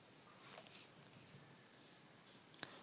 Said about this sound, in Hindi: इसके जो ऑप्शन होंगे वो मैं इधर लिख दे रहा हूं।